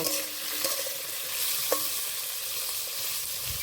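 Jackfruit pieces frying in goat fat with a steady bright sizzle, broken by a few scrapes and knocks of a spoon stirring the pan, close and continuous with no voices.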